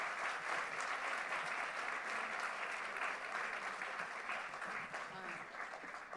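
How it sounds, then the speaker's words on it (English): A conference audience in a Delhi auditorium gives a long round of applause at the close of an HR session, many hands clapping in a steady, fairly distant wash that tapers slightly at the end. "So you may have a huge round of applause for them."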